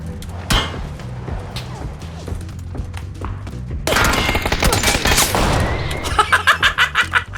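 Automatic gunfire in the video game PUBG (Battlegrounds): sharp shots and volleys crackle loudly, swelling into a fierce stretch of fire and ending in a rhythmic string of distinct, evenly spaced shots. A voice is faintly present.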